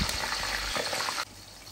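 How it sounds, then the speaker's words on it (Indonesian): Eggplant pieces sizzling in hot oil for fish balado, a steady close frying hiss that drops sharply in level about halfway through. "Dan lanjut ini aku mau goreng terung"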